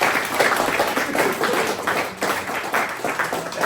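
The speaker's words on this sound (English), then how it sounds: "Now give yourself a round of applause" An audience claps in a dense, steady wash of applause that fills the room and holds without a break.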